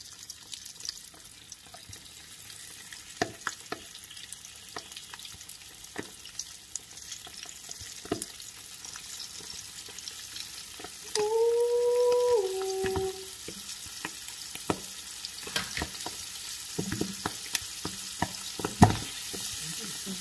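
Frozen pig feet fry in hot grease with a constant crackling sizzle scattered with sharp pops, a short tonal whine in the middle, and a louder pop near the end, with no one speaking.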